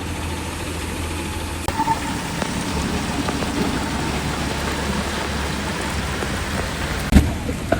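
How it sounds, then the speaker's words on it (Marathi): Heavy rain pours down during a Char Dham pilgrimage stop near the Dhari Devi temple, a loud, dense, continuous downpour with a brief thud near the end. "भरपूर जोरात पाऊस येतो"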